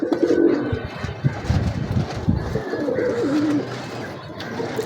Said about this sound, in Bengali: কামাকার কবুতর এটা মেল কবুতর